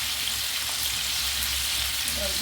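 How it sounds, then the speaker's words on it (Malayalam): Chicken frying lightly in a pan for a Kerala-style coconut roast: a steady, dense sizzle and crackle of oil, close and continuous, with no pauses. "ഒത്തിരി അങ്ങ് ഹാർഡായിട്ട് വറുക്കണ്ട കേട്ടോ, ചെറുതായിട്ടൊന്ന് ഫ്രൈ ആയാൽ മതി"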